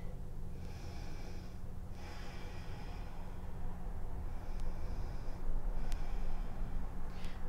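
Steady breathing during a yoga pose, with long nasal inhales and exhales heard close and clear, several slow breaths in a row against a quiet background.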